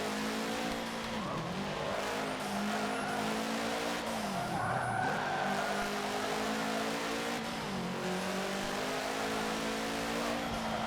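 Race cars in Forza Motorsport 7 roar through a showroom rally, engines revving up and down with pitch swoops as they pass, plus tire squeals and skids, a dense continuous mix without talking.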